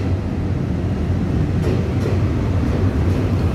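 EMU800 Smile commuter train pulling into a Taiwanese railway station, a steady loud low rumble and rolling roar throughout, with faint rail clicks near the end.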